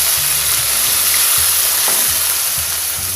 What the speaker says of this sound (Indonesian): Bawang udah mateng, kita masukin air dikit ya.